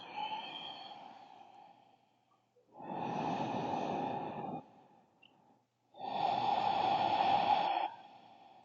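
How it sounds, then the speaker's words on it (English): Deep, slow breathing held during a seated yoga stretch for the shoulders and upper back: two long, loud exhales, one sustained breath in between, close to the microphone with short quiet gaps, no talking. "Staying here for a couple of breaths."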